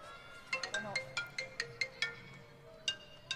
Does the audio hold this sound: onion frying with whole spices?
no